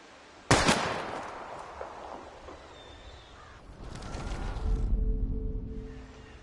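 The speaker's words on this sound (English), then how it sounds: "We're gonna shoot all these bottles without wasting a single bullet" A single sharp, loud gunshot aimed at bottles in Life is Strange, cracking out early and fading, then a low rumbling swell and faint tonal hum, with no talk.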